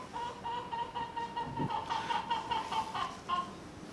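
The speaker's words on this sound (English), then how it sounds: "Goddamn chicken." A chicken clucks repeatedly close by, a rhythmic series of short throaty calls with a brief squawk partway through, over a faint background hum.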